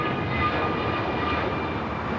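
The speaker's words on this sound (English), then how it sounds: "2850 taking off to Philadelphia on the A321neo" An American Airlines Airbus A321neo jet takes off at Los Angeles airport, a steady, loud engine roar filling the brief moment without voices.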